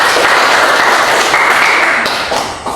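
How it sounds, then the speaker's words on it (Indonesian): Loud, dense clapping from a classroom of students applauding a group after their presentation, sustained and close for a few seconds before tapering off. "Kita tepuk tangan dulu buat kelompok 1."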